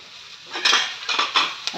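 Utensil scraping and clinking in a pan as Maggi noodles are mixed with spices and vegetables, a few short bursts of stirring close by with no talk.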